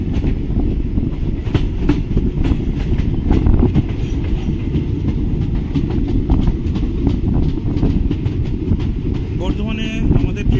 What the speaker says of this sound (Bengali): বর্ধমানে আমাদের ট্রেন ঢুকছে